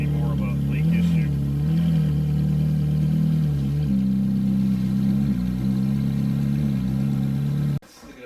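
Supercar engine running on a garage lift after a leak repair, a loud low steady rumble with slight swells in revs before cutting off abruptly near the end.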